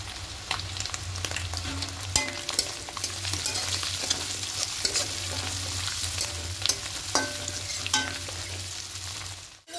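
Soya chunks fry in a pan with turmeric and Kashmiri chili powder, a constant close sizzle broken by repeated scraping stirs of a spatula against the metal.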